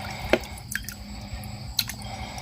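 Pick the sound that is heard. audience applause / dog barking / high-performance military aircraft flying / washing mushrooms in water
washing mushrooms in water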